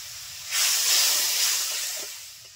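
Ground cumin, coriander and chili powder sizzle in hot oil for a river fish curry, a loud, steady frying hiss that swells after a half-second and then slowly fades, with no voices.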